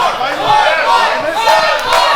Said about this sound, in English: the crowd asking for one more here